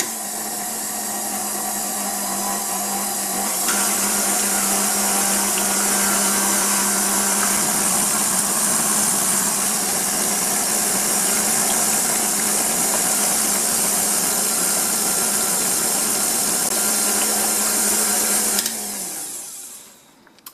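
A KitchenAid blender blends vegetable soup, a loud steady motor whir running for about twenty seconds, shifting slightly in tone midway, then spinning down at the end.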